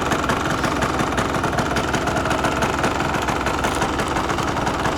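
A Yamaha DT200R motorcycle engine runs steadily and loud throughout, a dense continuous two-stroke drone with no clear pauses, as the bike pulls through its gears.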